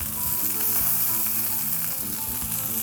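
Asparagus spears sear in a hot pan with a steady, loud, continuous sizzle that holds evenly throughout, with faint background music underneath and no talking.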